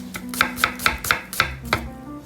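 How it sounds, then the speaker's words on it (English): A knife slices food into thin strips on a cutting board: seven crisp, evenly spaced cuts in quick succession, close and distinct, with no talking. "we're gonna cut right here. Really thin strips"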